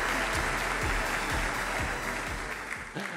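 Applause at the 2018 Oregon Sports Awards for the male football athlete of the year, a sustained crowd clapping of even loudness with a few sharper claps standing out near the end.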